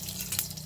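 Cumin and mustard seeds sizzle in hot oil in a home kitchen, a brief steady hiss and crackle at moderate loudness with a low hum underneath.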